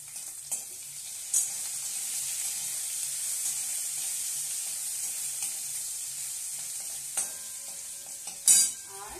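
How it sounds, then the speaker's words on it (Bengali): Crushed garlic cloves fry in hot oil, a soft continuous sizzle with occasional louder clinks and scrapes as they are stirred, close and with no voices. "এবার দিয়ে দেব 7-8 কোয়া থেতো করা রসুন"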